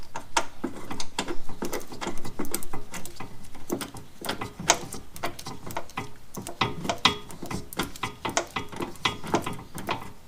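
Ratchet tightening a camber arm bolt on an Integra during a rear camber kit install, rapid clicking strokes in irregular bursts, close and fairly quiet.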